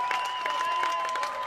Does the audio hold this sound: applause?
yes